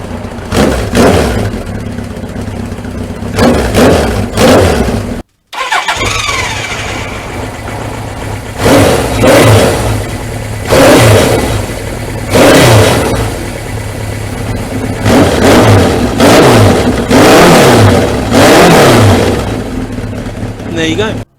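Suzuki GS1000 motorcycle on standard exhausts with the baffles removed, engine running loud and close, idling between repeated sharp revs that rise and fall, with brief speech over it.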